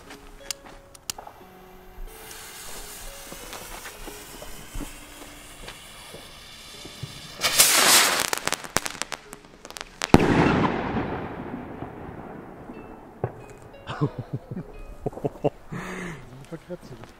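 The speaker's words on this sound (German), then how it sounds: "So sehen die Salut-Raketen aus mit Silber-Crackling-Aufstieg." Salute rockets with a silver crackling rise go off nearby: sharp bursts followed by a dense, sizzling crackle that rises and fades, with more scattered pops and bangs afterward.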